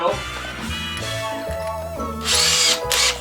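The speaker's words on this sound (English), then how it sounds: "Drill this hole out just a little bit." A handheld power drill whines as it bores a hole slightly larger in a round part for a sanding wheel in a workshop, the motor rising and falling in pitch through several short bursts with a harsher cutting hiss near the end.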